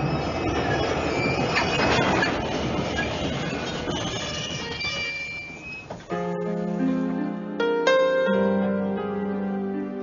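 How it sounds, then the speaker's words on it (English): A train runs on rails in a BBC radio drama, a steady rumbling clatter of wheels that gives way to a squeal and then sustained tonal ringing, with no talk over it. "And now let us stop these trains."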